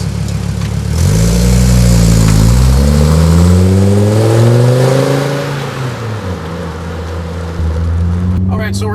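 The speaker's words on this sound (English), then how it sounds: "let's go hit the streets and get a sense of what the exhaust sounds like when we're cruising under some power runs and a few flybys" A 1998 Volvo T5 manual with a turboback exhaust drives under power, the engine note rising through gears with a loud throaty rumble, dipping and climbing again as it accelerates.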